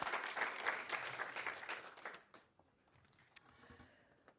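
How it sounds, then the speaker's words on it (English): Audience applause at an arts awards ceremony for an absent award recipient, a dense burst of clapping that tapers off after about two seconds into near quiet with a few scattered claps. "give her a round of applause"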